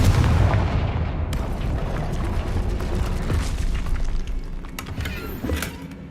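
Bombarda and Confringo blast spells in the Hogwarts Legacy video game, a dense run of booming explosions and rumbling impacts filling the whole stretch, loud and close with crackling debris over a heavy low roar.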